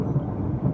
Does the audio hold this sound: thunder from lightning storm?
yes